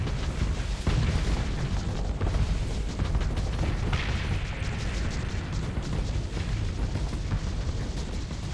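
A torpedo strikes in the space combat game Starsector, producing a rumbling boom and crackling blast that wash over a dense, continuous backdrop of weapon fire and engine noise.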